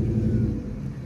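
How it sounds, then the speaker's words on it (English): Car passing nearby on a street, a loud low rumbling engine and tyre roar that swells then eases off over about a second, with no talk. "a weird car"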